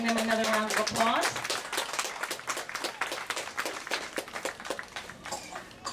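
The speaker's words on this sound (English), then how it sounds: "let's reward the birds by giving them another round of applause" A live audience claps for performing flamingos at a bird show in Ardastra Gardens. Dense, sustained applause rises right after a man's brief spoken line, then continues steadily to the end.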